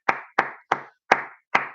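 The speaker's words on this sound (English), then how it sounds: "Give yourselves a big round of applause." Five separate, evenly spaced sharp claps ring out clearly at close range with silence between them, more like single deliberate hand claps than a crowd round of applause for kids.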